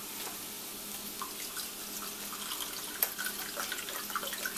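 Vegetable broth poured into a pot, a steady liquid stream with light splashing and a few sharper drips, close and fairly quiet, with no voice over it.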